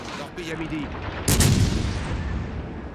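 A heavy naval gun salvo fires from a French battleship in a naval combat video game, a single booming blast about midway that rolls off into a long, fading rumble, loud and close.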